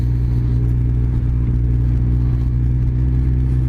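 Kawasaki ZZR 1400 sport motorcycle engine running, a loud, steady, close-up mechanical rumble with a constant hum and no voices over it.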